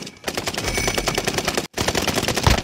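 Rapid automatic gunfire from a shooter video game rattles in a dense, steady burst for nearly three seconds, broken by one brief gap before the firing resumes, loud and close.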